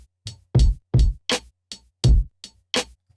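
Lo-fi drum beat with a snare rim flam, heard alone: punchy kicks and crisp snare and rim hits in a steady, sparse groove with short gaps between hits.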